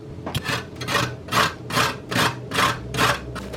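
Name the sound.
grating a pepper on a grater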